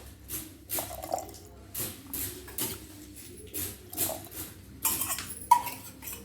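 Quiet splashes and trickles of water come in irregular bursts, with soft clinks, close by in a calm room.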